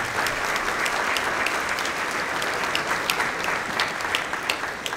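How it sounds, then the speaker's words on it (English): At a high school football banquet, a crowd claps steadily and warmly, a thick even wash of many hands that carries on without letting up for several seconds. "And let's give them a big round of applause."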